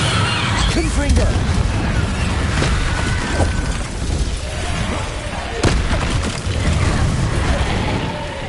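Confringo blasting spell bursts in the Hogwarts Legacy video game, a dense run of booming, crackling spell impacts with a sharp blast near the middle, mixed with combat effects and voices throughout.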